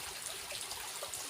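Steady, rushing flow of a river once lived beside in childhood, a continuous broadband wash of moving water with no voices, heard fairly close and evenly throughout.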